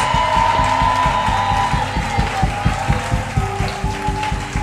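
Church congregation applauding and cheering during a worship service, a steady wash of clapping and crowd noise over rhythmic organ or keyboard chords, fairly loud and continuous.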